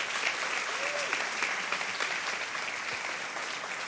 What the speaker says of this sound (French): Alors est-ce qu'on peut aussi les applaudir bien fort?